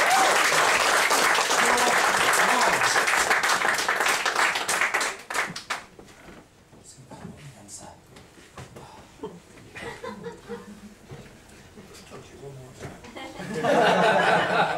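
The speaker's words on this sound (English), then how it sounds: "Give them a round of applause." A theatre audience at a comedy mind-reading show applauds loudly for several seconds, then the clapping dies away into scattered claps, chuckles and murmuring before a fresh burst of applause swells near the end.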